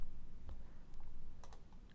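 A computer mouse clicks faintly a few times against a quiet room hiss, the small sharp ticks spaced irregularly.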